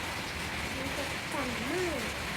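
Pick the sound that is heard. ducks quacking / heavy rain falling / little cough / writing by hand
heavy rain falling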